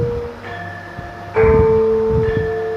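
A kenong, the small horizontal kettle gong of a Javanese gamelan, is struck in a lesson on traditional instruments, giving sustained metallic ringing tones with a loud fresh strike midway over lingering resonance, no talking.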